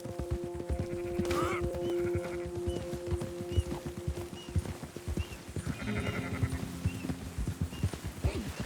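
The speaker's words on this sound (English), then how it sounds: "Marston, why don't you leave the sheep to me?" Sheep bleat repeatedly in a farm setting in the video game Red Dead Redemption 2, mid-distance bleats over clip-clop of hooves and steady background ambience.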